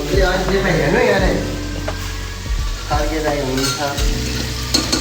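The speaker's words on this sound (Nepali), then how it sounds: "कुकरमा चिया बन्दैछ।" Tea made in a pressure cooker gives off loud sizzling and stirring scrapes, with bursts of frying hiss and rattling clatter across several seconds, close and prominent.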